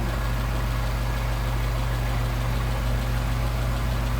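A car engine fitted with Solex carburetors idles steadily while the carburetor is adjusted, a close, constant low rumble with even vibration and no clear change in revs, with no talking over it.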